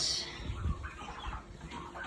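Chickens clucking in a barn, a few soft, low clucks and murmurs close by with faint shuffling, brief and fairly quiet.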